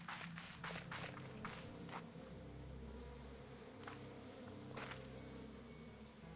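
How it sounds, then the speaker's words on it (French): Bees buzzing in the Slime Rancher 2 video game: a faint, continuous low buzzing drone, with soft footstep-like taps over it and no speech. "Il y a des abeilles au-dessus."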